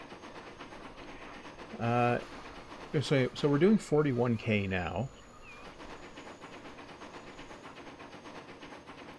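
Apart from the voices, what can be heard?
train riding in video game Transport Fever 2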